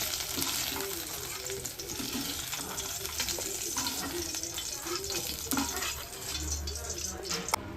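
Ivy gourd pieces fry in hot oil for a kovakkai kuzhambu curry, producing a constant, dense sizzle with occasional bubbling crackles and faint stirring, heard at close range the whole time.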